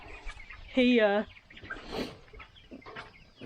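A hen gives a short loud cluck, followed by softer scattered clucks and rustling nearby.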